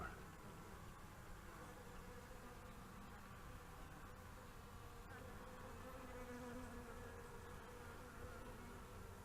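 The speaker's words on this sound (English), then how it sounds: "Look at the bees." A honeybee swarm buzzes at a top bar hive, a thick, unbroken hum of many bees holding steady and fairly close for the whole stretch, without speech.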